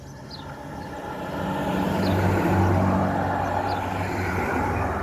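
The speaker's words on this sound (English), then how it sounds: "There is a car coming up behind us" A vehicle engine hum swells and grows louder over several seconds as it approaches and passes, with faint chirps in the distance.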